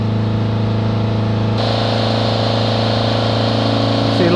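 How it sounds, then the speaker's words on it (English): A Fiat Ducato 2.3 diesel engine with a particulate filter fault is held at 3000 RPM with a pedal depressor, a loud, steady mechanical drone with a tonal hum, its pitch shifting slightly partway through. "Hold the revs up to 3000 RPM with a pedal depressor"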